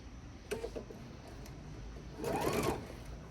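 A sewing machine stitches slowly around the corner of a reversible bag, giving a brief burst of ticking stitches followed by a longer, slightly louder run of rapid needle strokes, close by and with no talking.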